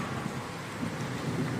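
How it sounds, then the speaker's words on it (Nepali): Steady rain in a sudden hailstorm with wind in Dharan, Nepal, falling in a constant, even hiss with a low rumble underneath, no voices present. "ल हेर्नुहोस् यसरी पानी पर्दैछ है त"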